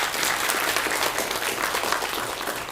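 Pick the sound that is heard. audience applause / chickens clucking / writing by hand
audience applause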